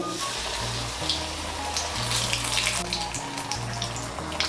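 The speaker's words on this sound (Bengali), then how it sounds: "আঁচটাকে মিডিয়াম করে বড়াগুলো ভেজে নেব" Stuffed ash gourd fritters in batter frying in hot oil over medium heat, a dense, steady bubbling sizzle that holds at an even level throughout and sounds close, with no talking.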